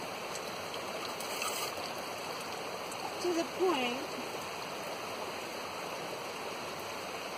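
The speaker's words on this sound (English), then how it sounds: "Now I'm taking my hot water, and I'm pouring it right in there" Hot water poured steadily over camp coffee grounds outdoors, a continuous splashing rush throughout, with a brief spoken phrase partway through.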